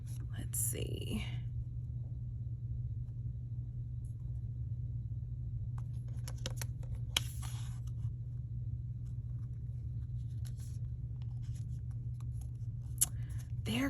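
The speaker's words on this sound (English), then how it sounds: "Let me cut another piece of yellow." Scissors cut through a piece of yellow paper in short crisp snips near the start, with scattered soft rustles and clicks afterwards over a low hum, and a quiet voice murmuring in places.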